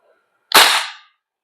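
A single sharp crack from a BCMAIR MCMR 11.5 airsoft gas blowback rifle fires once, close and loud, with a brief gassy burst that fades within half a second.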